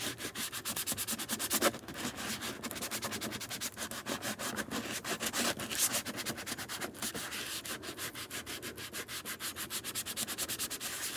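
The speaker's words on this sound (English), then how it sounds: "what I'm gonna do with my sanding sponge is roughen this up to give me a good gluing surface" Steady, rhythmic rubbing of a sanding sponge roughening a plastic lid, close up and continuous, with quick repeated strokes and no talking.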